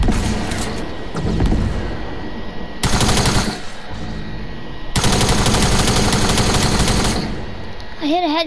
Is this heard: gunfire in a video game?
yes